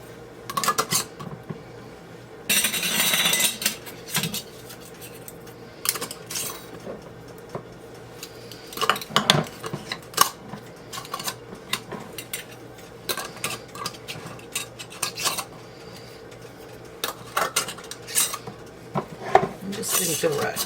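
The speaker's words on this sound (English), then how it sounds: "I'm going to put my lids on. I'm going to put my rings on fingertip tight." Metal lids and screw rings clink and scrape against glass canning jars of pork roast as they are fitted and twisted on, with irregular close clatters and jangles across a quiet room.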